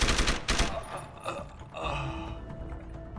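Several sharp gunshots crack in quick succession in Deus Ex: Human Revolution, followed by scattered fainter shots and mechanical clatter amid a tense firefight.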